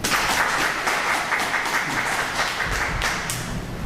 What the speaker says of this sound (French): Donc on les applaudit.